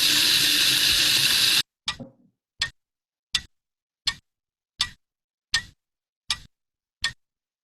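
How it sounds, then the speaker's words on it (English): A clock ticks in evenly spaced, crisp single clicks, about one and a quarter per second, isolated in silence after a brief burst of rushing noise at the start. "Yep, clock."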